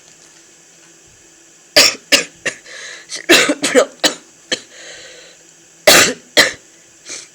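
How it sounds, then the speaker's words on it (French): Several close, loud coughs and throat-clearing bursts in quick clusters over a quiet room with a steady faint hum, followed by a short spoken phrase. "Désolé pour la toux."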